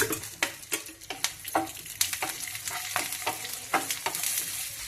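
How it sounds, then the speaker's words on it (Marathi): Sizzling in a pan as coconut, onion and garlic roast in oil, with repeated scraping stirs at an irregular rhythm, close and moderately loud, with no talking. "त्या खोबऱ्यामध्ये 1 पोळी तेल घालू आपण चांगलं भाजण्यासाठी"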